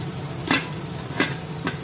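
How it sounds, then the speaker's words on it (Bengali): Steady sizzling of pointed gourd and bitter gourd frying together in a pan, with a few louder stirring scrapes spaced through the clip; no voices. "এদিকে ভাজা বসে গেছে পটল আর করলা একসঙ্গে"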